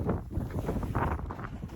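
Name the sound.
wind on a mountain ridge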